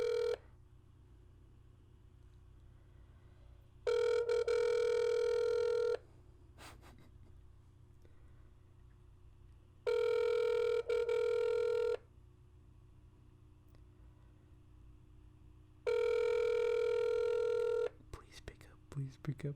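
Outgoing phone call ringback: three long ring tones repeat at steady intervals, each about two seconds with silence between, fairly clear and close, ending in a short burst of sound.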